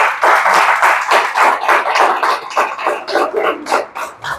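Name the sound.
congregation applause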